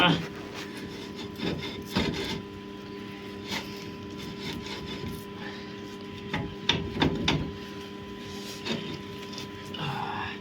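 Worn rear wheel bearing on a Renault Modus being worked back and forth, giving rough scraping and grinding rubs in irregular bursts over a steady background hum, close and moderately loud.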